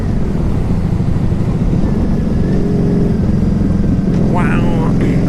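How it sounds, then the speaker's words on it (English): A 1987 Honda Super Magna motorcycle engine idles steadily with a dense low rumble throughout, loud and close, with a brief higher whine near the end. "Well, I'm just showing you guys how good this bike runs."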